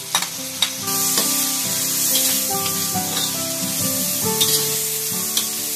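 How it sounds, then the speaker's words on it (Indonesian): Onion, ginger and garlic sauté in hot oil, giving a loud, steady sizzle with scraping stirs and a few sharp clinks of the utensil against the pan near the start and end. "Gunakan minyak yang sama untuk menumis bawang besar, halia dan bawang putih."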